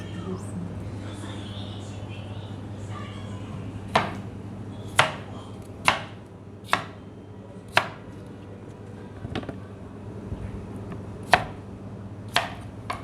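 Sharp knife strikes slice through unripe kelek melons for pickle, about nine distinct chops spread irregularly over steady low background hum, fairly close.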